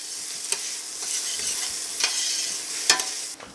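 Garlic frying in a pot while being stirred, giving a steady close sizzle with a few sharp scraping clicks of the spoon at irregular moments; no talking.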